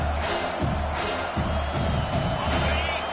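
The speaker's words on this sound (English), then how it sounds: "Listen to this crowd just shaking the girders of this place, trying to help their defense." Stadium crowd at a college football game roaring loudly and continuously, with rising swells of cheering and whoops filling the space.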